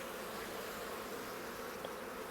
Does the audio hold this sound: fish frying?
no